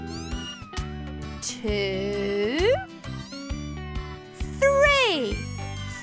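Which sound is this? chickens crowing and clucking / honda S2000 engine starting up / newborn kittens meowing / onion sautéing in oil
newborn kittens meowing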